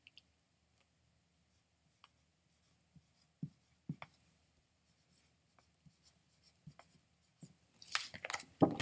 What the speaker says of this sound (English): So we start by drawing a triangle.